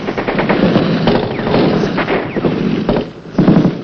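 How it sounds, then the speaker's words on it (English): Sustained burst of automatic and rifle gunfire as roughly 30 Viet Cong fire on a U.S. Marine patrol from a village in 1966 Vietnam, dense overlapping shots rattling continuously, loud and close, with no speech. "at least 30 VC opened fire from the village ahead"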